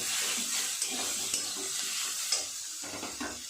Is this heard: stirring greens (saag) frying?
yes